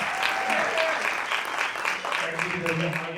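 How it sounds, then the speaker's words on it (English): Audience at a red carpet film premiere giving a round of applause; dense continuous clapping at moderate loudness, with a voice speaking over it toward the end. "everybody please give a big round of applause for Brian Mossman"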